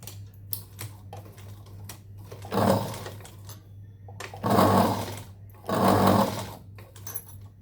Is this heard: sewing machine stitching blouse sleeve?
yes